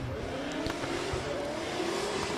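A V8 Nissan 350Z drift car at full throttle during drift championship qualifying in Oman, a sustained distant engine roar with a slowly rising pitch over steady background noise, heard without talk.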